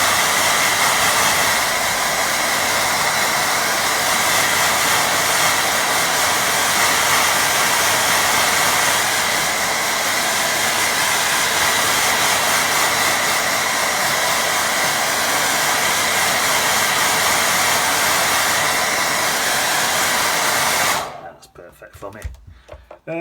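A hair dryer blows on a wet watercolour painting of a rocky shore with a loud, steady, close whoosh for about twenty seconds, then cuts off abruptly. A voice may be faintly present under the airflow.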